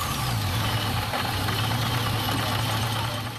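A Cord 812 supercharged 4.7-liter V8 runs steadily, giving a loud, continuous low engine drone with a rough knocking texture and a faint supercharger hum. The sound stays constant and near, with no talk.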